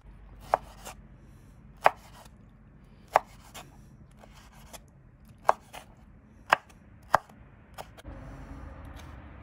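A knife chopping tomatoes on a cutting board for lecho, heard as a series of crisp, irregular thuds with soft cutting sounds between them, fairly quiet and close, with no talking.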